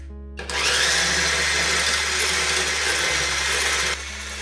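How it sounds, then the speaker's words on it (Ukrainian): A blender whips egg whites at maximum speed, whirring loudly and steadily for about three and a half seconds, starting and stopping abruptly, with a low hum underneath. "Я буду одразу виливати в чашу блендера і збивати головне на максимальній швидкості."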